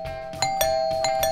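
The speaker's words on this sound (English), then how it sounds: "Did you hear something? It sounded like a doorbell." A doorbell chimes repeatedly, each two-tone ding-dong ringing out clearly and fairly loud against a quiet indoor background, with no talking.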